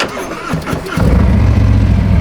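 A Harley-Davidson FXDR motorcycle engine cranks with a few stuttering turns, then catches and settles into a loud, deep, steady idle rumble close by.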